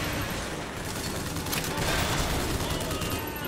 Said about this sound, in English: Using a Gatling gun.